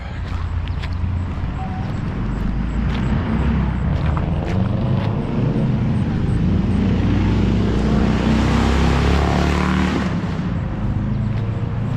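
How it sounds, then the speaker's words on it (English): A motorcycle passes along a rural road in Maine, its engine swelling from a distant drone to a close, loud roar and then fading, heard over steady outdoor background noise. "Motorcycle."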